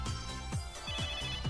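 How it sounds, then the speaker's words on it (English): A phone ringtone from the game MegaDimension Neptunia V plays as a rapid repeating electronic melody with a steady pulsing rhythm, loud and close, with no voices. "That's my end-gear's ringtone."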